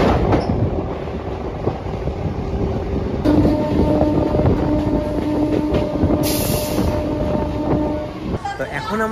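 A train at Birnagar station on a foggy morning rumbles steadily close by with rolling wheel noise and clatter, a brief high squeal partway through.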